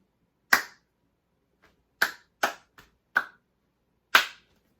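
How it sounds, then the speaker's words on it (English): Six sharp single hand claps in an irregular rhythm, loud and close in a quiet room with silence between them, plus one faint tap. "if clapping was a language"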